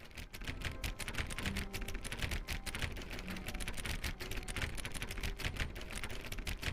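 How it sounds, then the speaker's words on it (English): A computer mouse being clicked rapidly and relentlessly on a door in The Stanley Parable, a dense stream of close, sharp clicks over a steady background hum with no talking. "You guys hear how fast I'm clicking this fucking door?"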